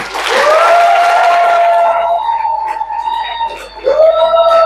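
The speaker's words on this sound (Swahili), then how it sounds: "Piga makofi kwa Yesu" A church congregation claps for Jesus at a sermon, giving a dense burst of applause that fades after a couple of seconds beneath a loud, sustained wavering keyboard tone.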